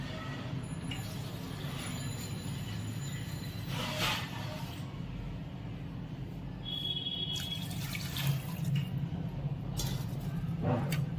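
Water splashes and trickles in a steady stream into a pressure cooker of barnyard millet khichdi nearby, with a few clinks of metal along the way.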